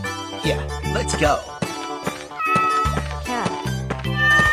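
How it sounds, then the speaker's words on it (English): A cat meows repeatedly in short, clear, tonal calls, close and fairly loud, in a quick irregular series with brief gaps between them. "Cat."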